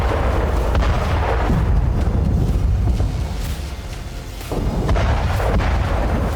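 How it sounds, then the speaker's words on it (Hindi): Kamikaze drones strike Russian tanks near Ukrainian military positions, giving a dense, continuous roar of booming blasts and rumbling detonations, with a brief dip in intensity midway before the heavy explosive din resumes. "कामिकाजी ड्रोन टैंकों से टकराकर धमाके कर रहे हैं"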